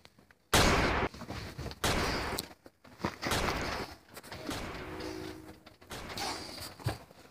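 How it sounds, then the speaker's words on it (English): Loud gunshots fired to crack a container open, heard as a few sharp close blasts with ringing decay and scattered bumps between them, with no voices. "I gotta shoot it in a certain place."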